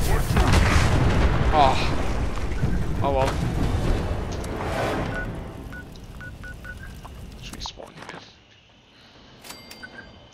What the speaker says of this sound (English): Explosions normally don't kill me